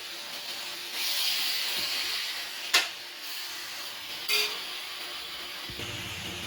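Pork goes into a pan with garlic and onion, raising a broad sizzling hiss. Two sharp clatters from the pan cut through the sizzle, with no talking.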